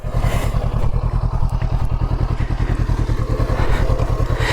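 A motorcycle rumbles along bumpy backroads, its engine throbbing in a fast steady pulse, loud and close, with clattering and thumping from the rough surface and wind noise, and no talk.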